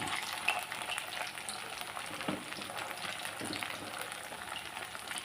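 Crispy onion vada frying in oil over lowered heat, a soft, even bubbling sizzle that carries steadily throughout, fairly quiet and close, with no one talking.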